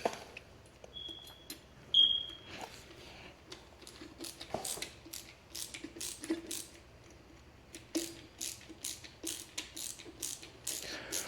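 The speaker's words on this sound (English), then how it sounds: "Unfortunately, it's a flathead screw, so I have to be using my screwdriver to get it." A flathead screwdriver drives small screws into a floor box cover, giving repeated faint clicking and scraping strokes in an irregular rhythm, close by with no talking.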